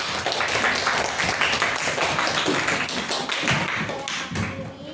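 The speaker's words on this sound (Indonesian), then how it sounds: "kasih tepukannya" Audience applause at a school coaching and academic supervision session, dense steady clapping from a crowd throughout, loud and continuous before tapering slightly at the end.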